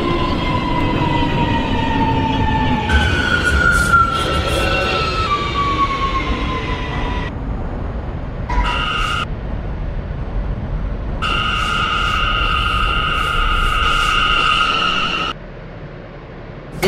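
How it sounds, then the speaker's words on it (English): An R179 subway train on a Manhattan-bound A express run in the OpenBVE train simulator, with a steady rolling rumble under whining motor tones that rise and fall and brief bright tonal chimes near the end. "This is a Manhattan-bound A express train."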